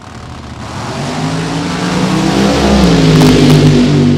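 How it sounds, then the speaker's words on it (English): Funny car making a single qualifying run at Cordova Dragway during the Summer Nationals, heard as a loud, continuous engine roar that builds and rises in pitch as the car accelerates. "Tony Frazier will take a single run here."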